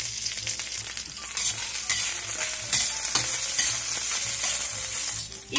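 Green onion and ginger stir-frying in a little oil, a close, bright sizzle with frequent spatula scrapes and stirring clatter, steady and loud with no talk.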